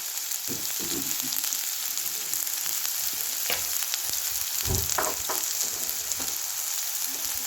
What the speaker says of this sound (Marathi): तर कांदा छानसा परतवून घेऊया आपण लाल होईपर्यंत